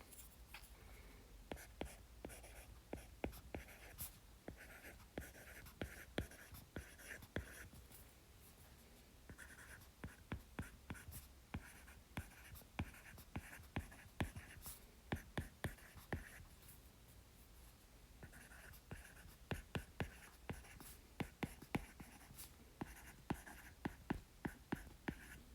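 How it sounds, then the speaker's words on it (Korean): Pen writing sentences by hand on paper, faint close scratching with many short strokes and brief pauses, continuing throughout with a quiet whisper-like background. "자, 이제 교재에 있는 문장 써볼게요"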